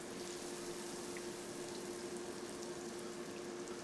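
Beer-battered food drops into hot deep fryer oil, setting off a steady, even bubbling sizzle that holds throughout, close and without speech.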